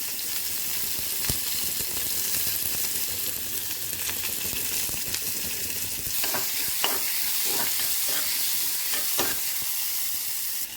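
Onion and curry leaves fry in hot oil with mustard seeds for a South Indian poriyal, giving a loud, dense, continuous sizzle with crisp spattering crackles that grow busier toward the end.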